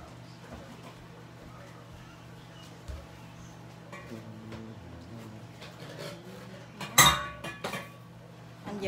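Crab stir-fried with ginger and scallion in a home kitchen, with soft clinks and scrapes of pans and utensils and one sharper metallic clatter, heard faintly under a low background hum while people talk.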